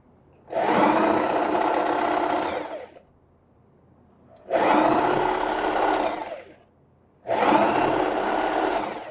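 A sewing machine hems a dish towel in three separate bursts of fast, even stitching, each lasting about two to three seconds with quiet gaps between, close and loud.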